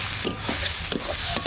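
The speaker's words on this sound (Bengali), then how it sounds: "পেঁয়াজটা ভাজা ভাজা হয়ে গেছে, এবার বাকি মশলাগুলো দিয়ে দিচ্ছি," Cumin, coriander and dried chillies sizzle among fried onions in a pan, a close crackling fry broken by several quick scraping stirs.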